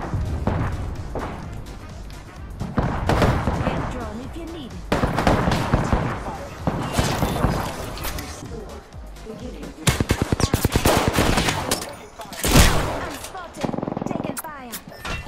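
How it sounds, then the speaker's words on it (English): Gunfire rattles through a battle royale video game in loud, rapid bursts and single shots, while a player talks and shouts excitedly over the shooting. "Oh my god, I'm getting shot at."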